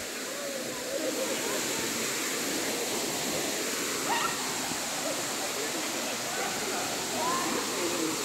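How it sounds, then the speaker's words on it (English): A Hawaii rainforest waterfall roars steadily, a broad continuous rush of falling water at constant loudness throughout, with faint voices underneath. "waterfall in Hawaii."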